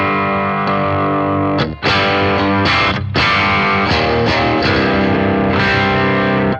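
Electric guitar played through a Boss GT-1000 Core on its Brit stack amp model, giving loud, continuous distorted chords with several sharp restrikes and one brief cutoff.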